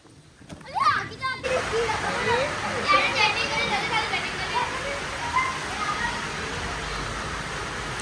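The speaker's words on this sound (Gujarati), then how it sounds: "કેવો પણ વરસાદ વધી ગયો છે" Heavy rain mixed with hail pours down steadily through the whole stretch as a broad, constant wash, with children's voices and adult speech rising over it.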